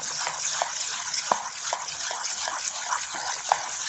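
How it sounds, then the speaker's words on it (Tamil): Water is poured into rava (semolina) batter with a steady hissing gush and small splashy ticks, moderately close and continuous without talk. "அதனால் கொஞ்சம் தண்ணி இழுத்துக்கிறோம். அதனால் கொஞ்சமாக ஊற்றிக்கலாம்."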